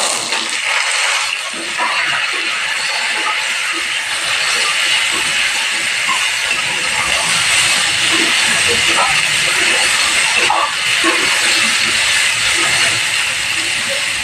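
Potatoes hit a hot pan with a loud, dense hiss of sizzling oil that holds steady and close throughout, with slight surges and crackles.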